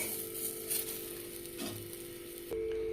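Ground matar dal paste sizzles and fries in a pan, a steady soft crackle with occasional stirring, close and fairly quiet, with a faint hum underneath.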